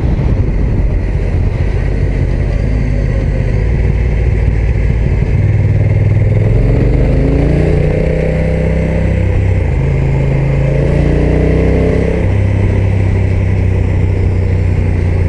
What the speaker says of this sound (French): un moteur assez rugueux, vu que c'est un bicylindre